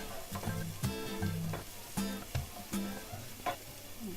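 Spring onions fry with smoked herring in a pan, giving a quiet sizzle with intermittent utensil clicks and scrapes, while tonal hums and squeaks sit in the background.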